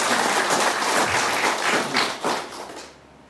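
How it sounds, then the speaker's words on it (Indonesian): Audience applause at a village gathering, a dense burst of many hands clapping that stays loud and then tapers off toward the end. "Tepuk tangan dulu tolong."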